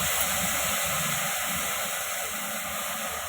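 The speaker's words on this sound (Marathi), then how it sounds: "तर तेल तडतडलं आहे" Hot oil hisses in a pan before spring onion greens go in for cooking, a steady, close, even sizzle with no voices over it.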